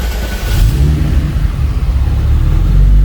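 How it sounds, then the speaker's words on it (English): A turbocharged VR6 car engine starts and settles into a loud, low rumble, running steadily and close by with no voices. "Let me just start it here for you."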